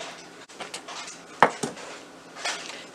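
A spoon clinks against a pot while sugar is stirred into semiya and sago payasam, a few sharp metallic taps standing out over quiet scraping, close and moderately loud with no talk.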